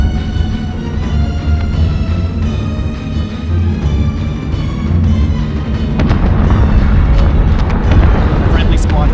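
Missiles burst in deep, rumbling explosions during a space battle in Battlestar Galactica Deadlock, a loud, continuous roar of blasts and engine drone that swells toward the end, with dense layered booms throughout.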